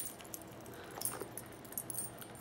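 A bunch of keys jangling as they are handled out of a bag or purse, a soft, close metallic tinkling in scattered light bursts over quiet room tone.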